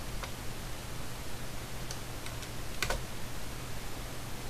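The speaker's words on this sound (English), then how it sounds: "just use the arrow keys, get all that fine tuning" Computer keyboard arrow keys click a few times, sparse and faint against a steady hum, with a quick double tap near the end.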